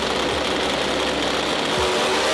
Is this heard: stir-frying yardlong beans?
no